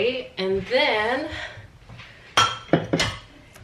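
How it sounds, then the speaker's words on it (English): Dishes being unloaded from a dishwasher in an apartment kitchen, with several sharp clinks and clatters of dishware near the end, following a stretch of someone talking close up. "I am taking dishes out of the dishwasher to put away"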